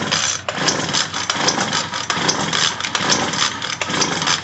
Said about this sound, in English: I'm just going to keep pulling to see if I can get it to fire.